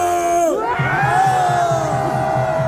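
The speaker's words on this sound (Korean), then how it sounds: "여기 10대 있다면 전방을 향해 함성!" Large outdoor crowd at an anti-impeachment political rally shouting and cheering in a loud, sustained roar, with overlapping whoops and yells over a steady rhythmic drumbeat.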